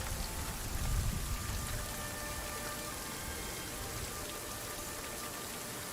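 Steady rain falls across a rainy map in a video game, a continuous even hiss of drops on surfaces with a slightly heavier patch near the start and no voices.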